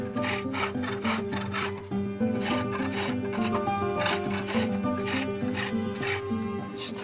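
A cutting tool scrapes a groove into the rim of a turning wooden cylinder to make a pulley, a loud steady rasping grind with rhythmic strokes over a continuous droning hum, with no talking.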